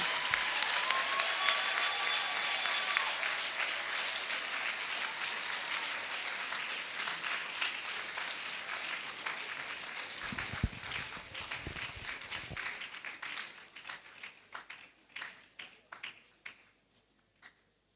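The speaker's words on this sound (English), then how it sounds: "With a round of applause, shall we receive Miss Regina Amano." An audience at a university congregation ceremony, the UHAS graduation, gives Miss Regina Amano a round of applause. A long, dense wash of clapping gradually thins into scattered individual claps before fading out.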